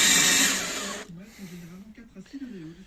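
A drill bores through a small homemade metal bar, a loud steady whine for about a second that cuts off abruptly, followed by low droning that wavers under quiet talk.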